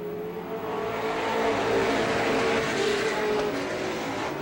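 A pack of race cars roars past at Star Speedway in August 1993, a continuous droning engine wash that swells slightly and holds steady, heard from the stands without commentary.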